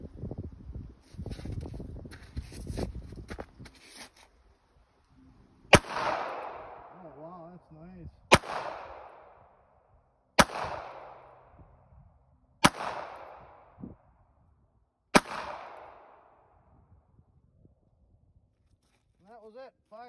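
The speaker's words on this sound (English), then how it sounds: "That was it, five shots." A 1908 Bayard pistol chambered in .32 ACP fires five evenly spaced, sharp shots outdoors, each a loud crack with a short decaying echo, after some handling noise and talk.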